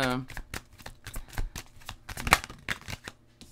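Tarot cards shuffled and drawn close up, a fast run of crisp riffling flicks and soft slaps at an uneven rhythm, with a brief voice at the start.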